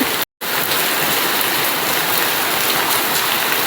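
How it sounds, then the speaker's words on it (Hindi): Heavy rain pours down outdoors in a steady, dense hiss that fills the whole stretch, loud and close, broken only by a split-second gap near the start, with no voices. "झमाझम बारिश हो रही है"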